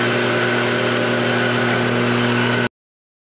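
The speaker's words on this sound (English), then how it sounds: "So first thing to do is to grind the coffee." An electric grinder grinding coffee beans gives a steady, loud, droning motor whir with a constant tone for under three seconds, then stops abruptly into silence.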